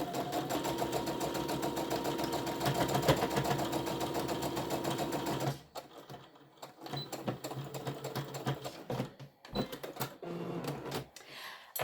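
Sewing machine stitching a bag seam at a quarter-inch allowance, a dense rapid mechanical whir running steadily for about five seconds, then stopping into quieter intermittent clicks and handling noises.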